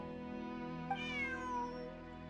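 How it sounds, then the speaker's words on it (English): A single cat meows once in a video game, a clear rising-then-falling cry over a steady background hum, with no voices. "Bonnie is Pierre's cat."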